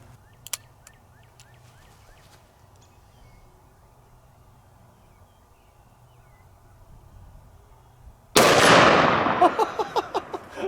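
.500 S&W Magnum snub-nose revolver fired one-handed, a single very loud close blast that booms and then rolls away in echoing reverberation after a long quiet wait with faint background hum.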